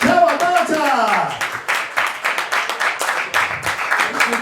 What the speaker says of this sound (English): keep that round of applause going for Academy.